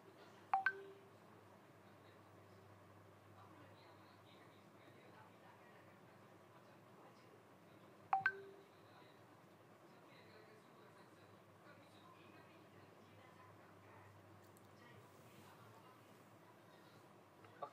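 Mobile phone keypad tones sound while a link is being opened: two short, faint beeps about seven seconds apart over a quiet room background.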